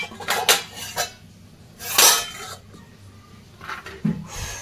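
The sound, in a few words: cooked chicken being transferred into a cooking pot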